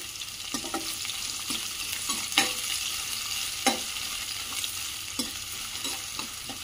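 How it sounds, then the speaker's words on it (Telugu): Onions frying with green chilies in a pan for a bitter gourd fry, a steady close sizzle broken by regular spatula scrapes and taps, with no voices. "ఇప్పుడు పచ్చిమిర్చి వేగిందండి, ఉల్లిపాయ వేస్తున్నా"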